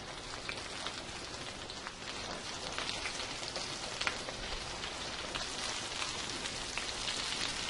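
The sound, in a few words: scallops sauteing in a pan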